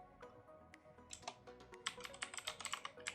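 Quick, close computer keyboard typing while writing HTML and CSS code, with scattered keystrokes at first and then a dense burst of rapid clicks, quiet and with no one talking.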